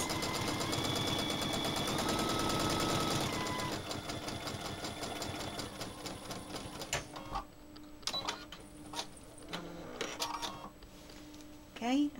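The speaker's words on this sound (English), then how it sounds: "On the Bernina with the free motion quilting, it is so easy to do this." A Bernina sewing machine stitches in a fast, steady drone during free motion quilting on an appliqué baby quilt. It stops partway through and leaves intermittent clicks and handling sounds, with light speech present.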